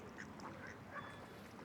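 Faint ducks quack a few times at a distance in Cannon Hill Park in England, with scattered short calls over soft outdoor background noise.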